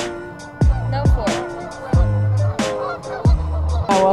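Waterfowl on a lake give loud, nasal honking calls in a quick, uneven series, close by and with no talking over them.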